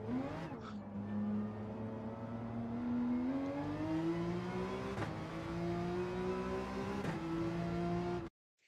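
A rally car engine in the video game EA WRC revs hard and climbs through the gears, with the pitch rising steadily and dropping briefly at two shifts before cutting off abruptly at the end.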